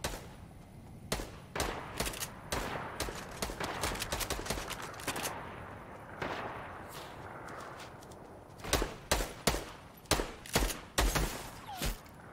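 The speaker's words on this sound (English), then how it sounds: "I might stick with my SMG though" SMG fire in the game Fortnite: rapid bursts of sharp, cracking shots, a dense cluster of pops early, then sparser spaced shots and another burst near the end, over quiet game ambience.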